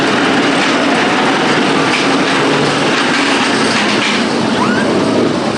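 Nemesis, an inverted roller coaster at Alton Towers, roars past as a steady, loud broadband rush of wheels and track noise that fills the whole clip, with no talking over it.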